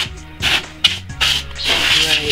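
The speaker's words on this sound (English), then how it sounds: "Before we get the case off, give it a good spray," Compressed-air duster sprayed into the holes of a computer case to blow out dust, heard as several short hissing bursts with a low mechanical hum underneath and no talking.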